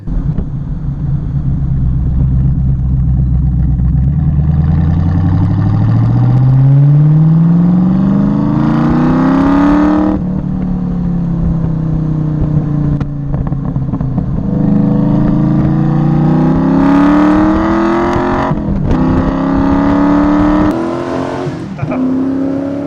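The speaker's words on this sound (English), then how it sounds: "when you do put your foot down, it does make a lot of noise" A TVR Chimaera 450 V8 revs hard under acceleration, its loud, bass-heavy engine note climbing in pitch through several long pulls with brief dips between gear changes, close and continuous throughout.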